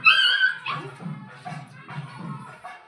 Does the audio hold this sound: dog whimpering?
yes